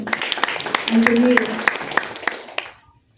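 An audience claps together at a church Bible quiz in Sharjah, UAE, with a quick, steady run of claps lasting a few seconds under a speaking voice, then fading out.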